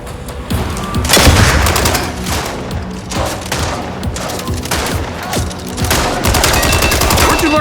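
Gunfire in the video game MindsEye, repeated bursts of loud automatic shots and booming impacts that come in clusters throughout.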